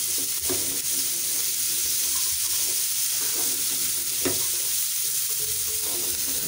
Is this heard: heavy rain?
no